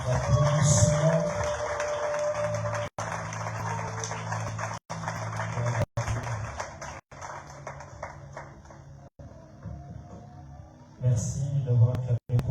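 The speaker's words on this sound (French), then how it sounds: "on peut encore encourager par l'applaudissement" A church congregation at a Sunday service applauds as a speaker walks up, a steady wash of clapping under a sustained musical backdrop with brief dropouts and a swell near the end.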